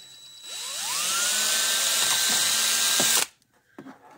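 A power drill drills through a CB radio circuit board, whining up to a high steady pitch, running for a few seconds, then cutting off abruptly, followed by a couple of small knocks.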